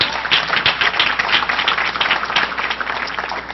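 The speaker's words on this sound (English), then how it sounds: "you can applaud that" At a school board of education meeting, the audience breaks into steady, close applause, many hands clapping evenly throughout with no speech over it.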